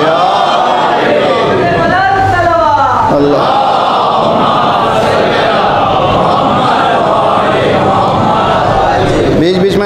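A large congregation at a Shia majlis chants religious slogans in unison, with loud, sustained massed voices rising and falling in rhythmic call-and-response over the full stretch.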